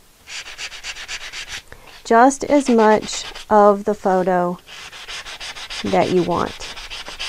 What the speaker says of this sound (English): So you're just going to go over the edges and sand and scratch just as much of the photo